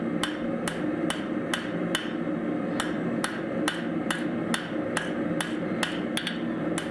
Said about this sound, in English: it doesn't like to thin when you're hitting it flat on the anvil with a flat hammer